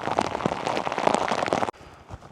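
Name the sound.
rain falling while hiking a riverside footpath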